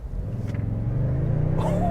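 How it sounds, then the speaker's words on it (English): A Toyota Sequoia Hybrid Platinum SUV floored from low speed, its engine note rising steadily in a loud, continuous droning rumble that climbs in pitch as it accelerates. "We're just going to floor it."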